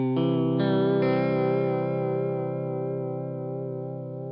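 Electric guitar run through a JHS Emperor chorus/vibrato pedal with its depth raised, three quick chord changes settling into one long ringing chord that wobbles with deep modulation and slowly fades, close and alone.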